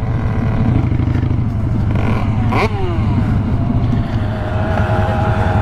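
Loud, close engine roar from a Rieju MRT 86 motorcycle, a steady buzzing drone with a brief throttle blip partway through.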